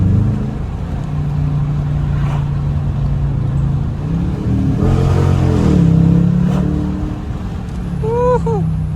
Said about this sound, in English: Love the sound of this car, man.